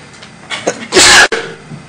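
One loud, sharp sneeze bursts out after a small catch of breath, close by in an otherwise quiet school board meeting room.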